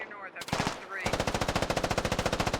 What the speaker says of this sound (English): Dix returns fire on a Manacle there